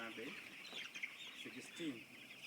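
Chickens on a poultry farm in Kajiado County, Kenya, giving soft scattered clucks over a constant faint hiss of a flock, with someone speaking nearby.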